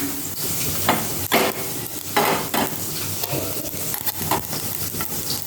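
Cumin, panch phoron and dried chilli dry roast in a pan, with light crackling and scraping stirs in uneven bursts, close and fairly quiet.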